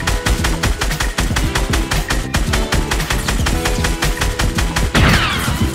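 Rapid, loud gunfire from a Fortnite match, a dense fusillade of evenly spaced shots continuing without pause, with a heavier burst near the end.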